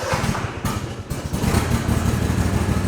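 The small engine of a Toro TimeCutter MyRide riding lawn mower cranks electrically and catches, then settles into a loud, steady running rumble close by.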